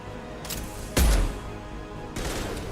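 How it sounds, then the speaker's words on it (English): Submachine gun fire in Mass Effect 2, a loud burst with a sharp blast and ringing tail, set against a continuous game backdrop with brief noise bursts before and after. "It would help if I wasn't using a shitty submachine gun."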